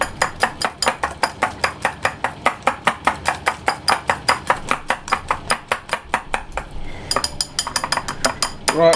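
Egg and sugar beaten by hand in a bowl for Swedish oat cookies, a fast steady run of loud close whisk strokes against the bowl, with a short pause and some clinks near the end.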